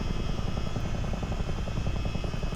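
Chinook CH-47 tandem-rotor helicopter in flight within a flight simulator game, a steady dense rotor and engine drone with rapid low blade chop, constant and close throughout with no talk.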